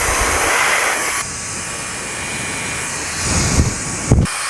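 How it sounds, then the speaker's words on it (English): An electric air duster fitted with a clip-on nozzle blows a steady, loud, breathy rush of air that whooshes on continuously, swelling briefly near the end with a couple of short bumps. "So we got the nozzle, got our air duster."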